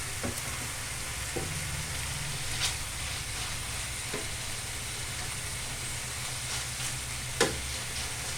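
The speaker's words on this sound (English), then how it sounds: "Keep frying the ingredients and press them down a little bit" Steady sizzling of aubergine and peppers frying in a hot pan, with a few soft clicks and scrapes of stirring and pressing now and then; no talking.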